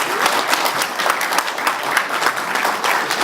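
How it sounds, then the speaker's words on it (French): An audience at a film screening applauds steadily, dense clapping from many hands sustained at a fairly loud, even level, with a voice faintly present underneath. "donc ça s'applaudit aussi"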